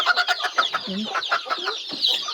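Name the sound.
pet chickens clucking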